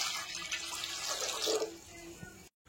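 Water pours into a cooking pot for rice, a steady splashing and gurgling stream up close. It stops suddenly near the end.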